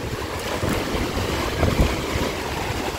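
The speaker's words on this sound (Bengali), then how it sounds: "ঢেউ কই, ঢেউ কই, ঢেউ চলে আয়।" Sea waves roll and wash steadily along Digha beach, a continuous broadband surf roar mixed with wind buffeting the microphone, swelling slightly near the middle of the clip, with no voices.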